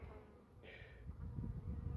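Honeybees buzz around a hive on a cold winter day, one brief nearby buzz passing close for a moment over low rumbling background noise, fairly faint overall.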